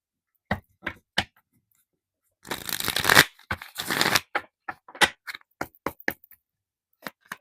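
Playing cards drawn from a deck and handled during a tarot-style reading, with a few crisp separate snaps, then a burst of shuffling and several quick close flicks and taps.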